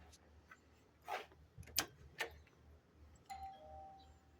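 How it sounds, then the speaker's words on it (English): A quiet doorbell chimes a few tones in a row, faint and somewhat distant, with low background noise and a brief sustained tone at the end. "Doorbell works."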